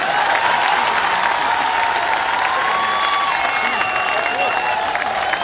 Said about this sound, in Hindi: इस बात पर आपने जितनी तालियां बजाई हैं